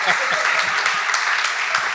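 Audience applause at a live founders and creators event, a steady wash of clapping throughout with a voice audible underneath.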